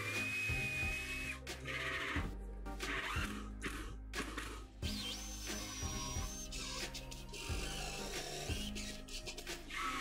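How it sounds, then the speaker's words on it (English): A power drill drives screws into a wooden CNC enclosure built from leftover wood, with repeated short whirring bursts and pauses between them, close and fairly loud, with no talking. "Then I screwed it to the bottom."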